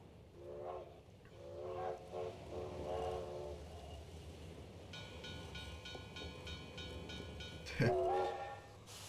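A train rumbles past in a fantasy-themed I Spy video game, with a steady rolling clatter, a brief chiming tone and a short whistle-like call near the end, heard alone at moderate loudness.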